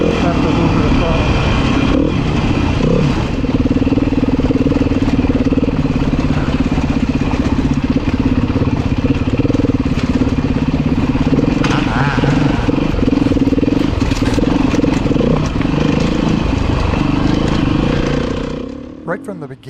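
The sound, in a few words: Beta 390 RR-S dirt bike riding off-road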